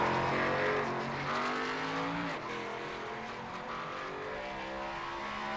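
A race car runs a qualifying lap at Watkins Glen, its engine droning loud and close with rising and falling tones through gear changes and turns. The engine runs steadily with no talk over it.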